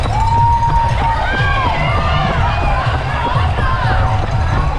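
A thick roadside crowd cheers and whoops at a corner of the Dallas 2024 marathon course, loud and continuous, with shouting voices and babble mixed in close by.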